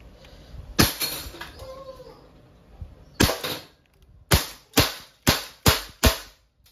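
A Walther CP88 .177 CO2 air pistol fires seven sharp, cracking shots, a pair spaced apart and then five in a quick, even series, close and loud.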